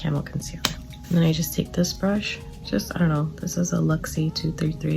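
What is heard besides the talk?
No distinct noise like a dog, phone or traffic.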